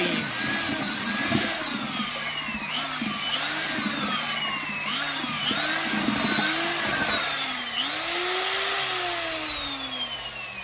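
A power whisk churns ceiling plaster in a bucket, its motor whine rising and dipping in repeated sweeps as it moves up and down, steady and close with no talking.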